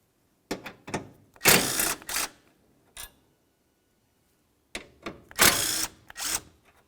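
Ratcheting on radiator bracket bolts of a 2000-2005 Buick LeSabre with a 10mm wrench: two clusters of rapid clicking about three seconds apart, with a single short click between them, close and fairly loud.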